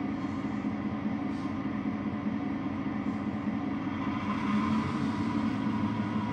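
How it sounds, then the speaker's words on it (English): A freight train backs up slowly to test its coupling, a steady low rumbling drone of rail cars and locomotive with a faint squeal, continuous and moderately distant. "you will hear the conductor say, give me a tug, and he's going to back up just to make sure everything is hooked up"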